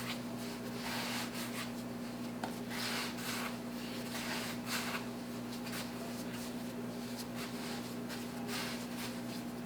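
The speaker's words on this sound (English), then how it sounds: "I will give it a short knead by hand now" Beer toast bread dough kneaded and folded by hand on a work surface gives soft rhythmic rubbing and pressing sounds, repeated at close range over a steady low hum.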